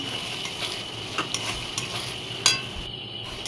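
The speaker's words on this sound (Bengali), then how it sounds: "সসটা দিয়ে একটু ভালো করে ভেজে নিলাম," Dry chili chicken with sauce is stirred in a frying pan, giving a low, steady sizzle with soft scraping strokes and one sharp utensil clink.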